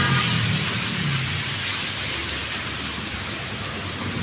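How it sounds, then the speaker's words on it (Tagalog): Heavy, unbroken rain pours down in a steady dense hiss, loud and close, with a faint low rumble underneath and no voices. "Maraming ulan mga kapersa, walang tigil."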